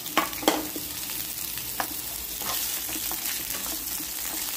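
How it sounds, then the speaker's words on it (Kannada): Capsicum frying in hot oil in a pan gives a steady close sizzle throughout, broken by a few sharp crackles and stirring scrapes, with no talking. "ಈಗ ಕ್ಯಾಪ್ಸಿಕಂ ನ ಸ್ವಲ್ಪ ಫ್ರೈ ಮಾಡ್ಕೊಂಡ್ಬಿಡೋಣ"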